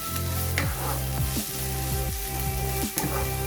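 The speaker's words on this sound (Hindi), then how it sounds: "एक एक करके अपने मसाले इसमें डाल के और जस्ट 2-3 मिनट इसको भूनेंगे" Spices frying in oil in a pan for samosa filling, a continuous loud sizzle with occasional stirring scrapes and clinks, close and alone without voices.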